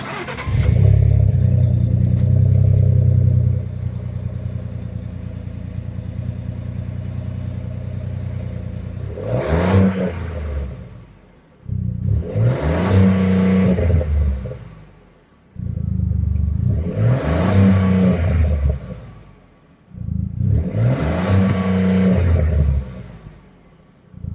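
A Ford Expedition Max Stealth Edition SUV with a 3.5-liter EcoBoost V6 drives on the road: a steady engine drone first, then three loud, evenly spaced acceleration runs, each revving up and dropping off between gear changes.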